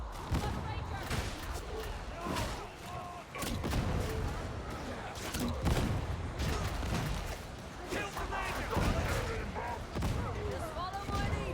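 Repeated hand cannon shots fired rapidly in Warhammer 40k: Darktide, a string of sharp bursts amid other gunfire and game effects, with voices talking throughout.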